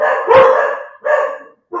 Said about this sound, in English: They're gonna keep barking for a second.